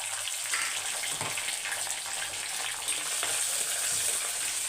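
Garlic and small onions fry in a pan with a steady, hissing sizzle, close and fairly loud, with faint stirring movements beneath it.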